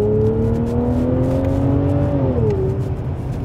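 A BMW 7 Series V12 engine revs up smoothly, its tone climbing and then dropping back, loud and close with a rich mechanical growl.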